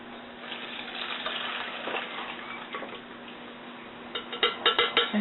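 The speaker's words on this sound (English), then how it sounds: "I'm going to pour it through the sieve." Bone broth soup poured from a pan through a sieve, a steady liquid splash with clinks of metal near the end, close and alone.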